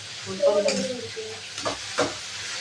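Tamarind water is poured into simmering turkey-berry kuzhambu, giving a brief burst of sizzling and bubbling with a short scrape of stirring, close and moderately loud, with a faint tonal murmur near the start.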